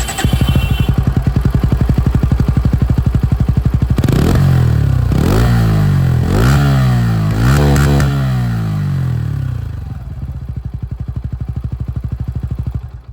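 A 2026 Bajaj Pulsar N160S 4V 160cc motorcycle with an underbelly exhaust idles close by, gets blipped through several quick throttle revs, then settles back into a steady, thumping idle.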